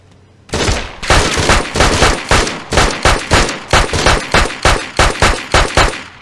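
Video game gunfire: a steady, evenly spaced string of about fourteen loud, close shots fired in rapid succession, with no talking over them.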